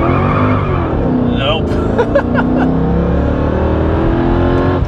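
A modified Mercedes E55 AMG wagon launches hard from a standstill toward 60 mph, its engine roaring loud and steady for the whole stretch while a voice speaks briefly over it.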